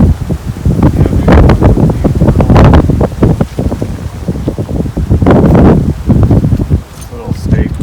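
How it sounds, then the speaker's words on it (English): Strong wind blows across an open desert campsite on a California ranch, roaring and buffeting the microphone in loud, gusty surges with rustling that rises and falls throughout. "Oh, we got some serious wind to test it out"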